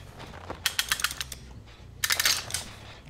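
A Dead by Daylight generator mechanism ticks and clatters in two quick bursts of ratcheting, gear-like clicks, separated by a short lull over a low background hum.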